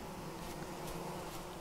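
Bees buzzing in the Vintage Story video game, a steady low drone that holds at an even level throughout with no voices over it.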